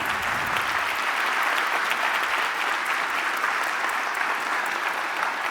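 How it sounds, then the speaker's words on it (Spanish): Loud, sustained applause from a conference audience honoring a panel of speakers, dense and even clapping filling the room for several seconds without talk. "Un aplauso, por favor, para nuestros panelistas."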